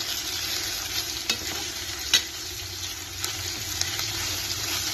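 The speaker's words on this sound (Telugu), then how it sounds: "ఇప్పుడు వెజిటేబుల్స్ ఉడుకుతున్నాయి కదా, ఒక 1 మినిట్ సిమ్లో పెట్టి ఉడికించుకోండి." Vegetables for egg noodles cooking and being stirred in a pan, a steady sizzle with a few brief clinks and scrapes of stirring throughout, close and moderately loud with no talk.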